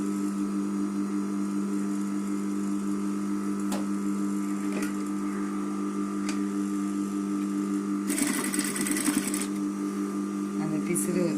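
Sewing machine stitching a folded raw edge down onto a cloth bag, a steady close mechanical whir and hum running throughout with a louder burst of rapid stitching near the end.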